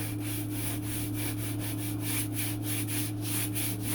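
A sanding block scrubs rhythmically back and forth across a wood sheet on a model aircraft's stabilizer, with steady, quick strokes close up and no talking.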